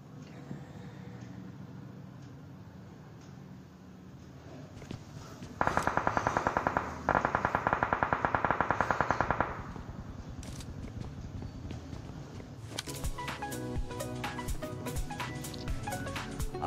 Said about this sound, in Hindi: ऊपर साइड से यहाँ पे फायर बहुत देर से आ रहा था